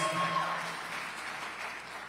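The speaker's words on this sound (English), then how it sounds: "Hold your applause, please." Brief burst of audience applause at a Washington gubernatorial debate between Dave Reichert and Bob Ferguson, a steady wash of clapping that holds for two seconds without dying away.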